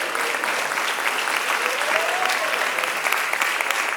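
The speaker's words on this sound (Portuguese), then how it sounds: "pode louvar a Deus com as palmas bem alegre para Jesus" A church congregation at a national youth congress claps to praise God, dense continuous applause filling the room, with a faint sung or spoken voice drifting underneath.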